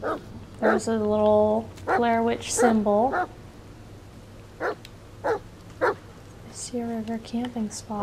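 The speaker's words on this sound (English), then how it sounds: "There's a dog." A dog in the video game The Medium gives several short whimpers and yips, then sparse soft barks, under someone talking over the gameplay.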